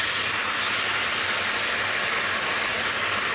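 Chicken pieces fry in a pan for dhaba-style chicken curry, giving off a dense, loud, unbroken sizzle close by with no talking.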